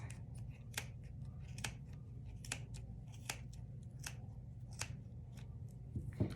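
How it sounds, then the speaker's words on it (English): Scissors snip through yarn loops held in a Clover pompom maker, a series of sharp, close, quiet cuts at an uneven pace over a low background hum. "Right there where your scissors can fit to cut all of those loops."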